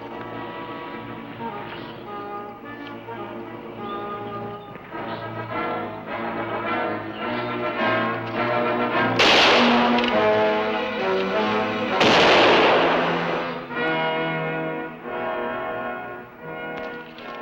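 Several loud gunshots crack out, two sharp bursts standing out over a dense, rumbling music bed.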